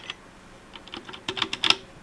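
Quick, soft clicks of typing on a cheap hot-swappable keyboard with Outemu switches modded to be silent; a short, muted flurry of keystrokes that builds to a slightly busier burst, with the stabilizer keys a touch noisier.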